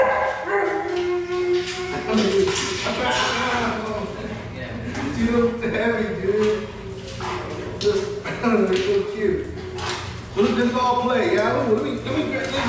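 Bully dogs play-fight close by, yipping, growling and whining in bursts, while a person talks over the scuffle.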